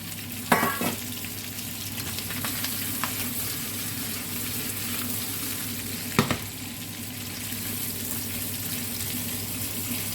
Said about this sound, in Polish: Teraz dorzucamy cebulę i smażymy dalej.